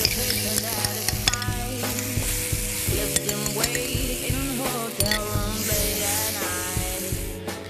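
Crushed tomato hits a hot frying pan for a puttanesca sauce, giving a loud, continuous sizzle with repeated stirring scrapes and the odd clink of utensil against the pan, heard up close with no talking.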